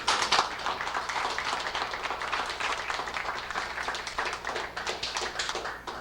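An outdoor audience gives Mr. Pete a round of applause, dense continuous clapping from many hands at moderate distance, steady for the full stretch with no voices standing out.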